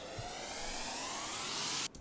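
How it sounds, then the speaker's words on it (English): Warp speed effect 11 from Logic's Apple Loops surges in a loud, rising whoosh of swept noise that climbs steadily, then stops sharply at the end with no voice present. "One is just a warp speed effect 11"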